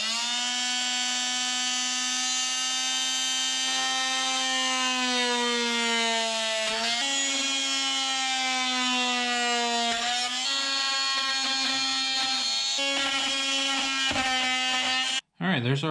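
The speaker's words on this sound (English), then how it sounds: "we're going back to the plunge cut saw" A plunge cut saw whines at a high steady pitch while cutting Kydex sheet for a bicycle frame guard, the tone dipping briefly under load several times before stopping abruptly near the end.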